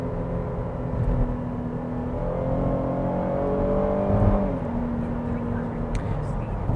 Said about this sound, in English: it gives you that very GM typical V6 gasoline engine sound